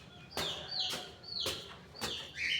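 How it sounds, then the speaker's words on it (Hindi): Chickens of the Aseel breed in a small rooftop coop, giving about four sharp clucks and squawks at regular intervals, close by and clear against a quiet background with no talking. "अब अपने मुर्गियों के पास चलते हैं"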